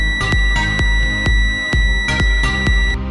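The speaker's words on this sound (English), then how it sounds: "When a nearby power supply is sensed, a beep alarm will be issued." An ANENG M113 digital multimeter gives a steady, loud electronic beep tone for about three seconds, punctuated by repeated sharp clicks and taps at an uneven rhythm.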